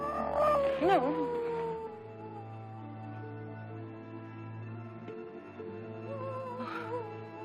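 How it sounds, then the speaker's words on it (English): Coyote howling in a classic Western TV drama: a long wavering howl rising and falling, fading into a sustained low drone, then another brief howl near the end, moderately loud with no clear speech. "Just some old coyote listening to himself."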